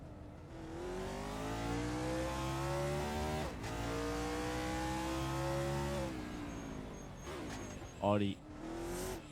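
Race cars accelerate at Baku in a racing video game, with several engine notes rising and shifting together in a steady, loud drone, a brief swoop near the end, and a commentator speaking over the action.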